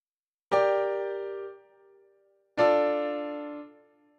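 Two sustained chords forming a minor-mode perfect cadence, played on a piano or keyboard, each struck cleanly and left to ring and decay, with a brief gap between them.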